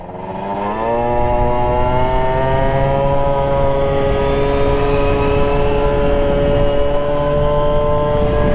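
A Suzuki Super Zuma scooter revs up and holds a loud, steady engine drone as it laps a small course on a hot day, close and continuous with no talk.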